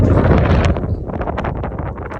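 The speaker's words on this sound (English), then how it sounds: "I know that gust of wind probably drowning me out." A strong gust of wind buffets the microphone on a mountain hiking trail near an old airplane crash site, a loud, rumbling roar that peaks at first then eases into a lighter, fluttering rustle.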